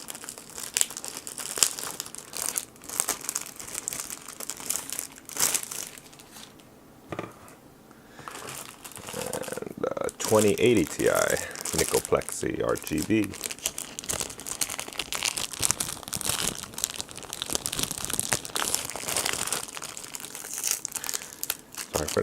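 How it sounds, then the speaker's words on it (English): Plastic bag crinkling loudly and irregularly while an EKWB nickel plexi GPU waterblock is unpacked, close up, with someone talking briefly. "Take it out of the bag."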